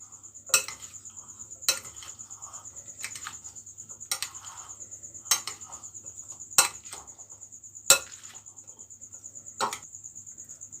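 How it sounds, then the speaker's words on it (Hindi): Spoon stirring fruit chaat in a bowl with black pepper powder, giving about eight sharp scraping clinks at a steady pace over a constant high insect-like whine and low hum; no talking. "अब हम इसे अच्छे से मिक्स कर लेंगे।"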